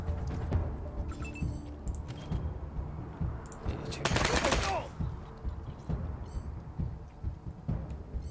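Gunfire in the video game Wasteland 3 crackles in bursts over a game soundtrack and effects, with one loud, noisy blast near the middle and a few sharper reports around it.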